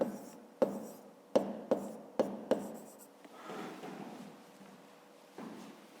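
Pen on paper writes out a fifth-grade math solution: a run of sharp taps and short strokes followed by softer continuous scratching, close up and quiet with no speech.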